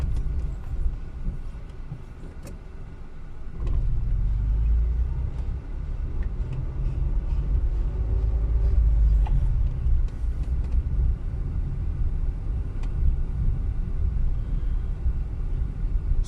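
A car drives slowly through the streets of the seaside resort town of Ustka near the beach, its low engine rumble steady and close throughout, with no talking.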